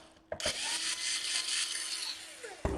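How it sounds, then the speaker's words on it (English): A power screwdriver whirs steadily for about two seconds while backing screws out of a Dell Inspiron 15 5000 series laptop, with a couple of clicks at the start and end and a faint voice nearby. "I apologize for the noise from the screwdrivers."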